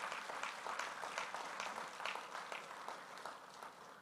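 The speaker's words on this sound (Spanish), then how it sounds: "Dale un aplauso al Señor por eso." A church congregation claps together throughout a Spanish-language service, a continuous wash of applause heard from a distance and fading slightly at the end.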